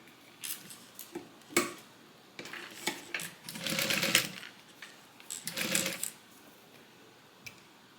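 A sewing machine stitches a folded fabric piece for a divider bag in short bursts of rapid needle clatter with pauses between runs, close and fairly quiet, with no talking.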